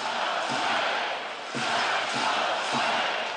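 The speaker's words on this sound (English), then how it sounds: "And the crowd with the Let's Go Blades chant" A hockey crowd at an ECHL Kelly Cup Finals game chants "Let's Go Blades" in an arena, a distant rhythmic roar of voices with repeated accented beats rising and falling under the broad crowd noise.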